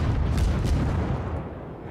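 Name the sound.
warship guns firing in World of Warships video game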